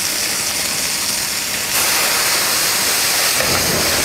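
A pan flambéed with cognac while cooking involtini in a TV kitchen, giving a loud steady hissing sizzle that swells suddenly midway and stays dense to the end, with no talking.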